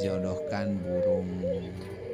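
Domestic pigeons and turtle doves cooing close by in a steady, overlapping run of low, throaty, wavering coos, with a person's voice in the background.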